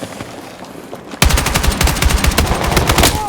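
Rapid automatic gunfire in the shooter Battlefield 6 breaks out suddenly after a quieter stretch, loud and close, a fast, steady stream of sharp shots continuing to the end.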